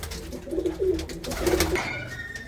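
Pigeons coo in a loft housing racing birds, the low throaty calls rolling in two or three close bursts, fairly near, with no one talking over them.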